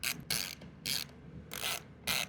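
Rapid ratchet clicks from tightening bolts on a Royal Enfield Himalayan 450 air filter, five short bursts in quick succession, close and fairly quiet.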